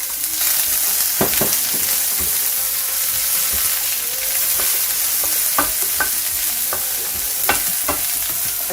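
Fennel seeds, chopped shallots and chillies crackle and sizzle steadily in hot oil for tempering, close and continuous, with occasional sharp pops and spoon scrapes against the pan.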